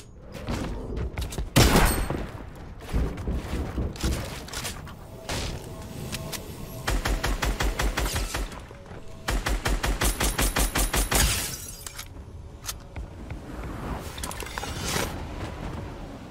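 Rapid shotgun blasts and rocket fire hammer a robot in a video game: bursts of close, sharp shots in dense rattling clusters, with thuds and booms between volleys and quieter gaps.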